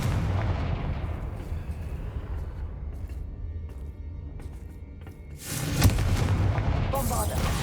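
Confringo explosive spell fired in the video game Hogwarts Legacy, a loud booming blast with a crackling decay, followed later by a second sharp burst.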